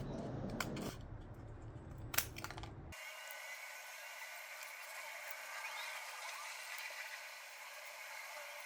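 Scissors snip through cardboard in a few quick, close cuts with a sharp crunch, then give way to a quiet, steady hiss of room tone.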